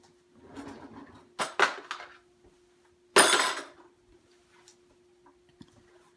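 Diamond glitter spooned onto a bar of lemongrass and sage cold-process soap, giving a few light metallic spoon taps and scrapes against a silicone-lined mold, close and quiet, with a steady faint hum underneath.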